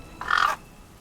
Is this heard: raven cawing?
yes